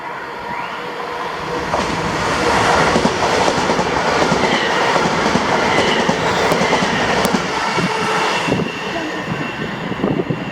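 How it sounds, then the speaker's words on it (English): A ScotRail class 334 electric passenger train, a two-unit set running from Helensburgh Central to Edinburgh, passes close by at Bowling with a loud rushing roar and rhythmic clickety-clack of wheels over rail joints, fading slightly at the end. "the 1547 ScotRail service to Edinburgh from Helensburgh Central with 334024 and 334031 in the rear"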